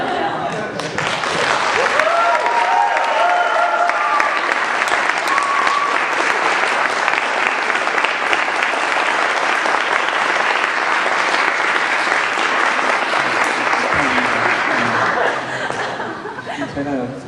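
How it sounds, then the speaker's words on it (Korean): A church congregation at a Baptist church in Austin, Texas, stands and applauds loudly for a visiting missionary, sustained crowd clapping lasting over fifteen seconds with some chuckling and voices near the start. "다 같이 나오실 때 스탠드업 치어 박수 세 번씩 칠 수 있게"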